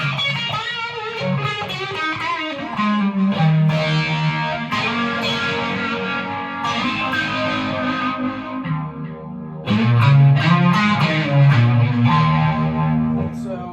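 Distorted electric guitar played through an effects rig with a phaser: sustained chords and bending single notes, loud and continuous, with a brighter, fuller section near the end and no voices.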